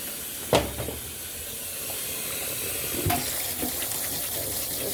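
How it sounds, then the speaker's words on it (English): Tap water running into a sink while rice is washed, a steady close hiss and splash with a couple of brief knocks, no talk. "Let's wash up the rice."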